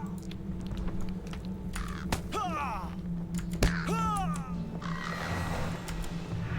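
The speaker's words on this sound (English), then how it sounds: "Is that a special bird of some form?" A large crow-like Crebain bird in Lord of the Rings Online caws twice in quick succession, harsh rasping calls over a low steady game ambience, followed by a fainter hiss.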